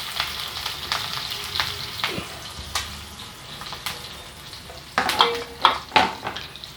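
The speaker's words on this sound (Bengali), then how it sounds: "তো আমার মনে হয় তেলটা গরম হয়ে এসছে। আমি এর ভিতরে পেঁয়াজ মরিচগুলো দিয়ে দিলাম।" Onions and chilies fry in hot oil with a close, steady sizzle. Spoon clatters and stirring scrapes punctuate it, and bursts of louder crackling build toward the end. No one speaks.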